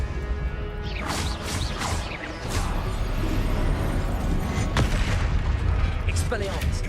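Confringo blasting spells in a Harry Potter video game explode as booming hits mixed with spell whooshes and sweeping swishes, loud and close over several seconds of continuous duel action.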